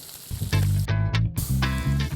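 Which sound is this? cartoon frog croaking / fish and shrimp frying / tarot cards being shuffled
fish and shrimp frying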